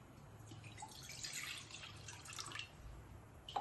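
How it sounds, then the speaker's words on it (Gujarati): A glass of water is poured into a pan on the stove to start sugar syrup for boondi: a faint, close splashing trickle lasting about two seconds, followed by a quiet drip. "ને એમાં આપણે 1 ગ્લાસ પાણી નાખશું આમાં"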